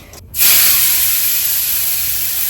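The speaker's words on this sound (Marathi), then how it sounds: "थोडस लाल तिखट म्हणजे कांदा लसूण तिखट वगैरे अशी मस्त फोडणी घालणार" Hot oil tempering with red chilli powder, onion and garlic bursts into a loud sizzle after a brief quiet moment, then settles into a steady close hiss.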